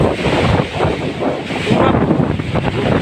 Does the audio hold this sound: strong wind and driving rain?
yes